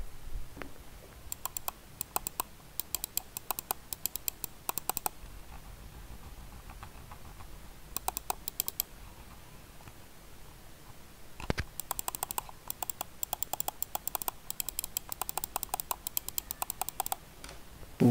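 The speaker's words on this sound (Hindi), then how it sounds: "माउस में क्लिक्स की साउंड आप सुन सकते हो" Clicks from a FINGERS SuperHit computer mouse, sounding in several quick bursts of sharp, close taps with short quiet gaps between them, heard alone against faint background hiss.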